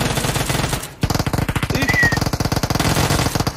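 Gunfire in PUBG Mobile: a loud burst of automatic fire, a one-second pause, then a long, rapid string of evenly spaced shots close by, with no talking.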